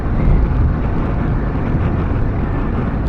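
Strong wind roaring steadily across the microphone while riding a 2021 BMW F750GS TE motorcycle on a cold day, a loud continuous buffeting rush with low rumble and no talk.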